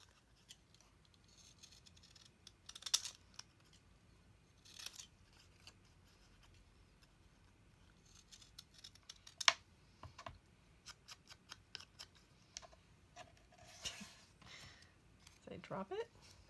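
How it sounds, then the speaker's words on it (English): Quiet, intermittent snipping of ripple-edged scissors through paper, small crisp cuts spaced irregularly, with soft rustling and handling noises close by. "I'm going to cut around it with these little ripple scissors."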